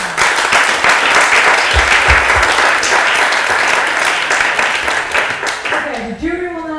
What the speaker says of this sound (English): So one more round of applause for everyone that presented.